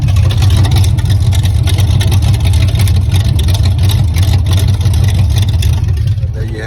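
A freshly installed cammed Chevy small-block 350 in a box Chevy project car runs at its first start-up, with a loud, steady, deep rumble close by and a choppy idle throughout.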